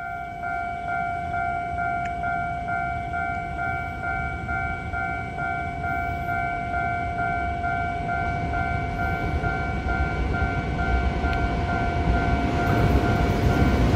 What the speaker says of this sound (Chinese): 这边有列车通过